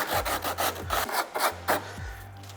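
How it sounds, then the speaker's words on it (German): Coarse sandpaper rubs back and forth along a sharp moulded edge to break it, a rhythmic rasping scrape of about a dozen close, steady strokes. "Nehme ich groben Schmirgel, mit dem ich die Kanten fein nachbearbeite, um halt die scharfe Kante etwas zu brechen."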